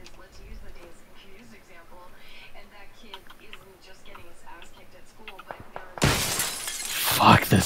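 Glass windows shatter loudly in a multiplayer shooter after a stretch of quiet team voice chat, a burst of crashing, tinkling glass filling the last two seconds.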